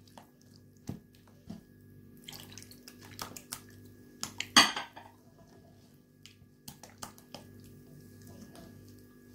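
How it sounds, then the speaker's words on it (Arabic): Savory mini cake batter being mixed with oil and milk in a bowl: quiet, irregular clinks of a utensil against the bowl with soft wet squishes, close, with no talking. "خلطوا داكشي مزيان"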